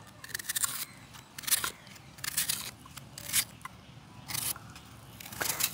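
Knife cutting onions into thin strips for a village-style beetroot sambal, heard as a series of close, crisp crunchy cuts that come in irregular bursts with no talking.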